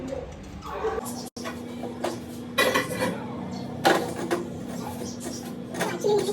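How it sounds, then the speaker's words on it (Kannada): Metal pots and vessels clank and clatter as they are set down one after another, in irregular bursts over a steady low hum. "ಇಷ್ಟು ಪಾತ್ರೆಗಳನ್ನ ಬೇಗ ಬೇಗ ಜೋಡಿಸ್ಕೊಳ್ತೀನಿ"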